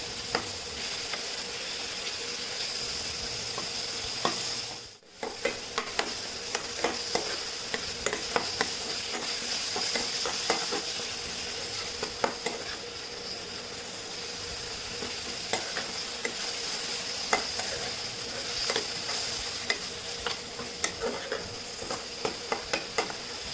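Chopped tomatoes frying in a pan for chettinad chicken, a continuous close sizzle broken by frequent scraping clicks of a spoon stirring, with no talking.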